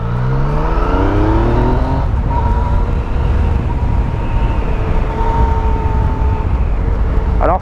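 A Yamaha MT-09 Tracer three-cylinder motorcycle engine roars loudly and steadily up close, its pitch climbing through the revs before settling into a sustained drone.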